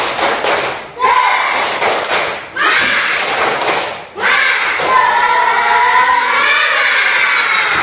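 A classroom of students performs the rhythmic "tepuk semangat" clapping cheer in bursts of claps and chanting voices, loud and close, with a teacher's voice leading between rounds.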